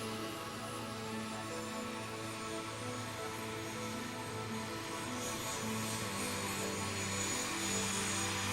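Aircraft engines power up for takeoff with a loud, continuous drone and steady hum, building slightly toward the end, heard as from inside the aircraft.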